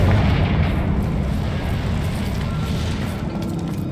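A Confringo fire spell blasts in Hogwarts Legacy, a loud, rolling explosive roar with crackling fire that stays dense and sustained for several seconds.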